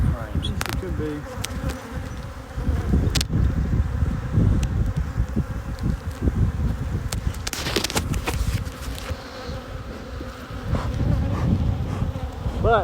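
Honeybees hum loudly around an open hive during a youth beekeeping inspection, a dense, continuous close buzz with occasional nearer passes of individual bees, wind rustle and brief bits of talk underneath.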